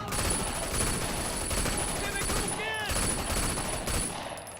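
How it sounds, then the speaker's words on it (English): Gunfire from an inaccurate gun in the video game Sleeping Dogs: rapid, continuous bursts of shots crackle steadily throughout, fairly loud, with a voice speaking briefly in the middle. "I hate how inaccurate this gun is"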